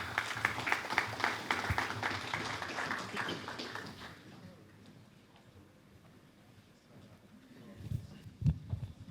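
Audience applause at an awards ceremony as guests join the stage, a patter of clapping in the opening seconds that fades to quieter room noise, with voices and a few thumps near the end.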